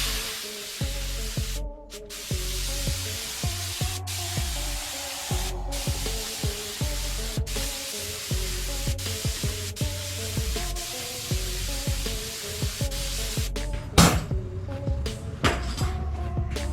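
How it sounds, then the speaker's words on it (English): Spray gun laying down a first coat of white paint, a steady continuous hiss running the whole time with short breaks and faint clicks and knocks, louder bursts near the end. "Okay, so I got some white in the gun. We're gonna get the first coat on here."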